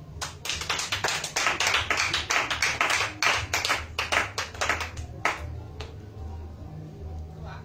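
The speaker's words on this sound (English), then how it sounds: "Then clap" Sharp, distinct claps from a church audience during a sermon come in a quick, uneven series, crowded at first, then thinning to a few scattered claps over a low background hum.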